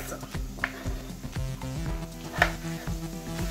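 Mutton pieces fry in a pan for a mutton and potato stew, a steady sizzle running under occasional clinks of a utensil against the pan.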